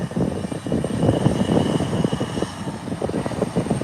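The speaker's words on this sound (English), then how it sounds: "Hear those Brazilian engines." Embraer 120 turboprop airliner engines roaring during the takeoff run, a loud, sustained, throbbing drone with a steady engine tone and no one speaking over it.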